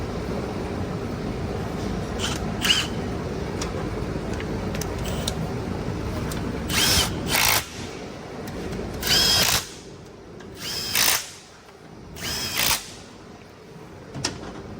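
A power tool drives the tail shaft bolts on a 2018 Chevrolet Camaro transmission, with several short, sharp bursts of whirring spaced a second or two apart over a steady background hum.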